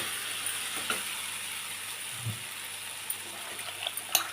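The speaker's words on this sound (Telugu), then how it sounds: "అరటికాయ ముక్కలు వేసుకుందాం" Raw banana pieces drop into softened tomatoes in a pan, giving a steady low sizzle with faint scraping clicks and a few small thuds as the pieces land and are stirred.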